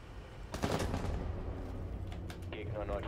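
Gunfire in the video game Rainbow Six Siege comes as a few quiet, sharp shots and short bursts at a distance, among low background game noise.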